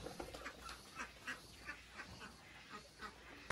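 Ducks raised on a prison farm in Bukittinggi quack in a string of short, spaced calls, moderately distant and soft over a quiet outdoor background.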